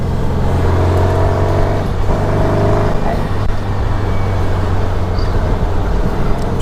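Rebuilt engine of a 1959 dune buggy running steadily on a test drive, a loud close drone with low throbbing harmonics that rises slightly in pitch partway through, continuous with no talk.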